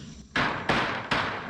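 Three sharp thuds from a rubber mallet hammering a pet fence into place, evenly spaced strikes, close and fairly loud, each one fading quickly.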